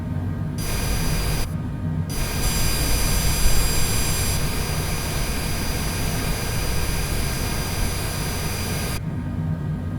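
A Cessna Citation Longitude's jet engines drone loud and steady during taxi in a flight simulator, a continuous whine and roar with brief quieter dips near the start and at the end.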